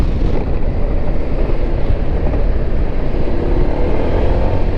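A Honda PCX 150 scooter runs at a steady, even pace; a low, continuous engine drone is blended with loud wind rush.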